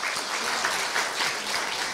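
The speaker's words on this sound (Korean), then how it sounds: "총장님께 다시 한번 큰 박수 부탁드립니다" Sustained applause from an audience at a Korea University staff retirement ceremony, dense steady clapping filling the whole stretch at an even level.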